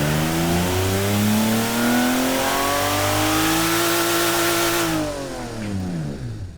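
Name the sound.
simulated engine revving in Automation car tycoon video game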